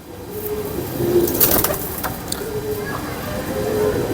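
Pigeon of a prized high-performing breed cooing, soft low coos repeated a few times under someone speaking nearby, with light rustling.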